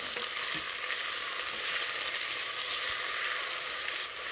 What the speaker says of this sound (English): Just give it a stir while it's cooking and adding the sliced onions